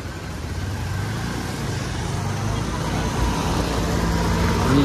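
A car pulls away along a road at night near Wadala lake in Panvel, its engine rumble steady and moderately close, mixed with general traffic noise that grows slightly louder toward the end.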